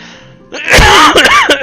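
A single loud, close sneeze breaking out of a quiet room, a sharp burst followed by a strained, voiced tail.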